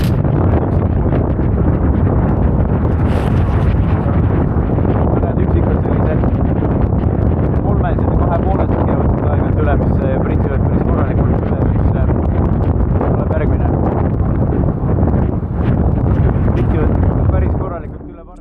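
Strong storm wind roars over a sailboat at sea, a dense, loud, continuous rush with buffeting wind noise on the microphone and water, steady for the whole stretch before cutting off near the end.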